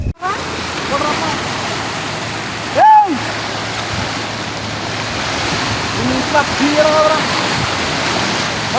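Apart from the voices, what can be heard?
flooded stream rushing water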